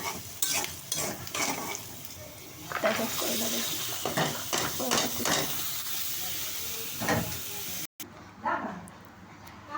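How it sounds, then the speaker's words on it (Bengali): A spatula scrapes and clatters in a pan of fried onions and turmeric over a steady sizzle, while a person talks and a dog barks faintly. "হলুদ দিয়ে নাড়াচাড়া দিলাম"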